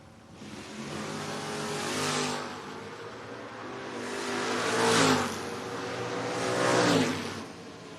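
A Camaro and a Valiant launch side by side in a drag race, their engines roaring and revving hard in loud, surging waves that swell three times as the cars pull away down the strip.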